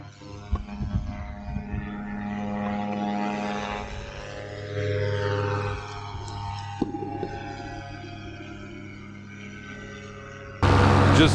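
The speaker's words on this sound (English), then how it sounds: "Just took off first flight on the brand new motor." A brand-new paramotor engine runs at takeoff as a droning, propeller-like buzz with rising and shifting harmonics, moderately loud and close, with wind rumble and a brief louder surge at the very end.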